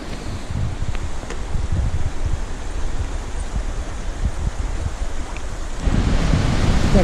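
A creek on the Black Forest Trail rushing along steadily nearby, a continuous broad wash of flowing water that swells slightly louder toward the end.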